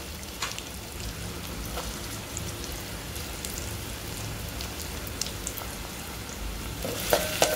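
Garlic and ginger sauté in a pan with a soft, even crackle and occasional light stirring ticks, fairly quiet and close, with no voices.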